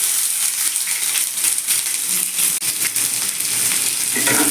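Steady, loud sizzling of chopped onions frying in hot oil, a continuous crackling hiss throughout with no talking.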